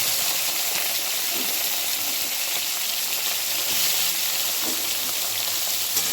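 Chopped onion, potato and eggplant frying in a wok, a dense, steady hiss and sizzle at close range, loud and unbroken, with no talk.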